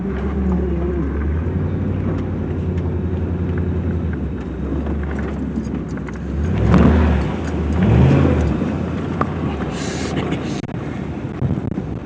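A car engine fitted with a K&N air intake revs in two clear swells over a steady engine drone, with wind buffeting the microphone outdoors.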